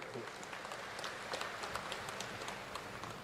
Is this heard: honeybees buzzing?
no